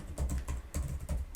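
Quick, steady keystrokes on a computer keyboard as code is typed, a close run of soft clicks about every fifth of a second with no talking.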